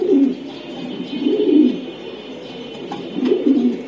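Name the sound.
racing pigeons cooing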